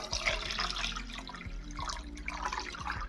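Water poured into a pot for vegetable salad preserves, splashing and trickling unevenly in quiet bursts with a few low thuds from handling.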